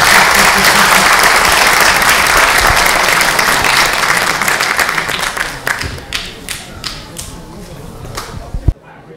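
Audience applause for Roy Scammell at a sci-fi fair, dense loud clapping that thins into scattered claps before stopping abruptly.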